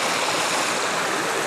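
A wild river rushes steadily through Queensland rainforest, a dense, continuous broadband roar of flowing water heard close and alone with no voices.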